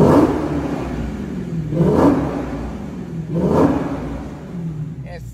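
A Dodge Challenger SRT Hellcat Jailbreak Widebody engine revs repeatedly, three rising surges over a steady low rumble, fairly close and loud.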